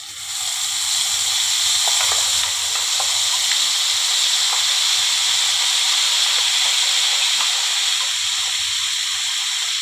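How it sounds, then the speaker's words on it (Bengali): A spice paste for paneer malai masala, made without onion or garlic, fries in a pan with a loud, constant hiss and sizzle that swells in at the start and then stays even. "এই পেস্টটা আমি এখন দিয়ে দেবো।"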